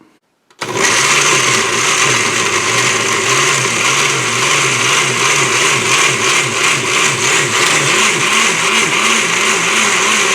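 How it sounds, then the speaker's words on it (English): A Black & Decker blender whirring as it purees cooked cayenne peppers for hot sauce. The motor starts abruptly, then holds a loud, steady whine with a churning, wobbling pulse from the liquid mixture. "I use a blender, Black & Decker. And we're going to go ahead and spin this up."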